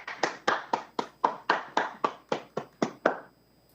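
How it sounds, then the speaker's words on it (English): Hands clap in an even, deliberate rhythm, about a dozen crisp claps spaced roughly a quarter second apart, fairly close and alone. "Can we do a hand clap?"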